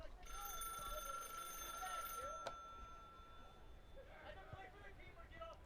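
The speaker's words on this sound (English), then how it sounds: "Oh, the phone's ringing here." A telephone rings with a sustained electronic tone that cuts off suddenly, amid open crowd and field noise at a men's college soccer match, followed by faint voices.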